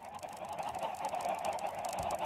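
Chickens in a video game cluck and squawk in a busy, continuous stream, fairly faint and with no talk.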